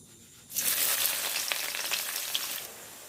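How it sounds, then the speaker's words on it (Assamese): Chopped onions hit hot oil already holding cinnamon and a bay leaf and burst into a loud, steady, close sizzle that holds for a few seconds before easing off slightly. "তেল গৰম হ'ল, মই ইয়াতে দালচেনি এটুকুৰা তেজপাত এখন দি দিলোঁ আৰু পিঁয়াজ 3টা কাটি লৈছিলোঁ, এইখিনি দি দিছোঁ"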